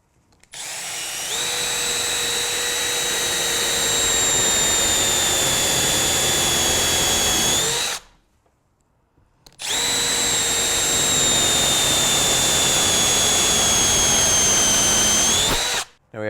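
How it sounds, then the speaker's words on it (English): A power drill fitted with a countersink bit bores into wood in two long, loud, steady whining runs of about seven seconds each, split by a brief pause, with no talking. "So we have our countersink all loaded up."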